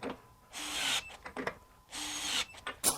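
A DeWalt DCF902B subcompact cordless impact wrench set to 75 foot-pounds runs in two bursts of hissing, rattling hammering, close up, with quiet handling clicks between and no talking.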